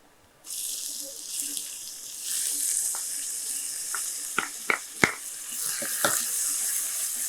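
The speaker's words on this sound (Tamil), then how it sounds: "வேக வச்சிருக்கிற இந்த சிறுபருப்பு இதையும் இதில் அப்படியே சேர்த்துலாம்" Cooked moong dal goes into a pot of simmering ridge gourd for payasam, making a continuous wet hiss with several sharp clanks of a spoon against the pot, close by and with no talking.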